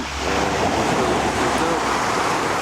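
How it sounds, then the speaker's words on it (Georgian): Continuous roar of sea waves washing in, loud and broadband, steady for the whole stretch with a slight wind-like hiss. "ზღვაც შიგადაში ხმაურობს რა"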